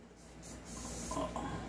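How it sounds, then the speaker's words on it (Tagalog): Silicone oil sprayed from a pressurised can for an airsoft gun gives a close, steady hiss that runs for nearly two seconds. "Press the valve, then spray."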